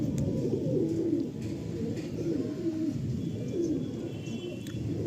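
A Madrasi breeder pigeon coos in several low, rolling phrases close by, set against a steady dense background hum.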